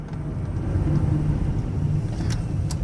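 A 2007 Ford Freestar SE wheelchair van pulls in under hard braking, giving a steady low road and tire rumble close by with no grinding or squeal, plus a couple of faint brief ticks near the end.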